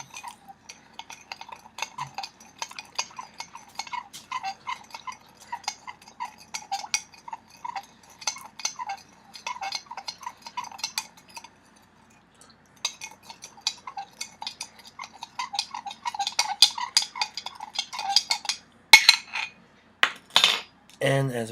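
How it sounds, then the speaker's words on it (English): A spoon clinks and scrapes rapidly inside a glass while sugar is stirred into water, producing steady metallic ticking in bursts with short pauses, and a few louder knocks at the end. "I'm going to stir it up."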